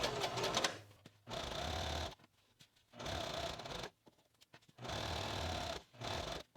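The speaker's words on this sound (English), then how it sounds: "and we will keep sewing." A sewing machine stitches the seams of a pair of kid's pants with an elastic casing. It runs in four or five steady, close bursts separated by short pauses, with no talking.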